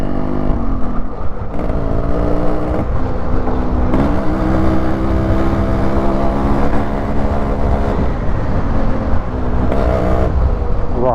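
Steady car engine and road rumble continue loud and close on a hill road with red-soil hills and curves, with shifting tonal whine as an oncoming car passes, no talk.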